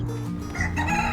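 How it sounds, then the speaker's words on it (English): A pet rooster crows once outdoors in a backyard with light rain falling, a short near, loud call with a rising, stretched tone that fills the moment on its own. "He's my pet rooster."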